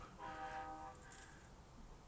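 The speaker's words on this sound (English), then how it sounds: "You could hear the train sound." A train horn sounds once from a distance, a faint sustained tonal blast lasting under a second over a quiet background hum and low rumble.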